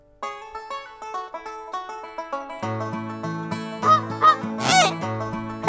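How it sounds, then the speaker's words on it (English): Goose honking from a children's farm counting song: a few loud nasal honks near the end, over a bright, bouncy musical tune with steady notes. "Hello, noisy goose."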